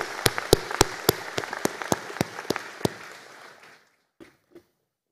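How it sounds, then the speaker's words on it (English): Applause at a university degree conferring ceremony, a dense smattering of claps with several sharp louder claps standing out, thinning out and fading near the end before a couple of last isolated claps. "Have our final round of applause."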